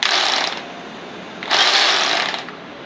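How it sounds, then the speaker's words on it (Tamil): A hammer drill in hammer-drilling mode runs in two loud buzzing bursts with a rough, rattling edge, separated by a brief quieter stretch of lower hum. "hammer drilling"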